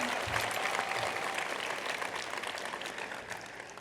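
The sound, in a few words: graduation audience applause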